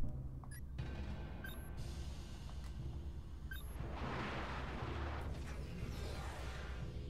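Mortar towers firing in the Savage Moon strategy game, steady low booms and thuds under a constant rumbling battle bed, with a brighter burst of blasts toward the middle, moderately loud.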